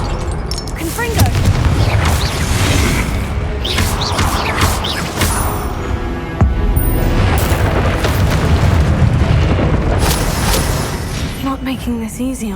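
Spell explosions from Confringo casts in the Hogwarts Legacy video game, loud booming bursts repeating through a dense, busy battle mix, with a voice talking over them.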